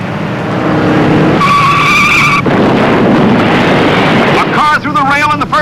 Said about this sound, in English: Turner in number 26 pours on the coal in third place, with Joe Eubanks in number 6 right behind him in fourth